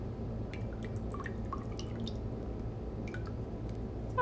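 Water drips and trickles steadily while items are washed by hand in a basin of warm soapy water, with small splashes and squishing close by and no talking.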